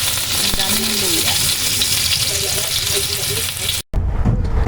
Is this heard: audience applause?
no